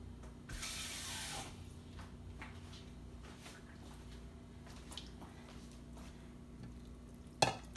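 A kitchen tap runs briefly to fill half a cup with water while preparing a herring fritter batter, a short close hiss of flow at the start followed by quiet handling noises and a small clink near the end.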